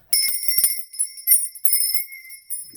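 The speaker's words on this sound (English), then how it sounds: "Let's ring this bell, cleanse the air." A bell is rung several times to cleanse the air. Each strike gives a bright, high metallic ring that is loud and close, with the rings following one another in short bursts.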